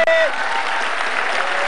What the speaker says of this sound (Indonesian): Sekali lagi tepuk tangan buat Coach Tubagus Wahyudi.